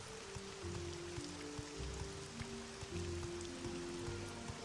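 Steady, quiet rain hiss from a rainy scene in the video game Morrowind, with faint sustained musical tones underneath and no talking.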